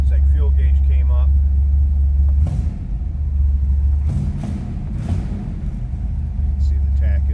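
A 1963 Chevrolet Impala SS two-door hardtop's 409 V8 idles while warming up, a loud, steady low rumble close by, with someone talking over it.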